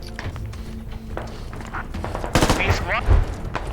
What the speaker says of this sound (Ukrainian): От, я чую, вони стріляють, чуєш?